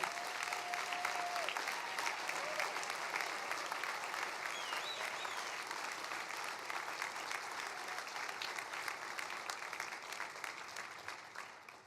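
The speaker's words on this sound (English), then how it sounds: "Let us please join me in a round of applause for Sawin's family" At a chamber of commerce annual meeting and dinner, a room full of guests applauds for a family being honored, with sustained, even clapping that fades gradually over about twelve seconds.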